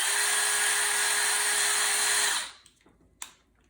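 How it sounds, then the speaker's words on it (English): A drill with a 1/16 inch bit whines steadily and loudly into the bottom of a painted pine cone for about two seconds, then cuts off abruptly, leaving a few faint handling clicks. "you just drill into the bottom"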